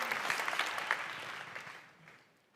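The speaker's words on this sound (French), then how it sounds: "Merci infiniment aux 3 intervenants, que je vous demande d'applaudir s'il vous plaît, pour les remercier." An audience claps to thank three speakers at a formal session, a dense burst of applause that stays full for a moment and then thins and fades away toward the end.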